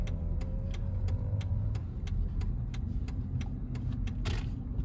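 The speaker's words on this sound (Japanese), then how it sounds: "音結構ね、V8 サウンド入ってますね。" Mercedes-Benz S550 V8 engine heard from inside the cabin while driving, a steady low hum with faint rhythmic ticks over it and no speech.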